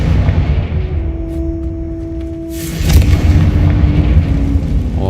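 A Confringo blasting spell in Hogwarts Legacy erupts midway as a loud, rumbling explosion that swells and lingers, following a stretch of steady magical humming and game ambience.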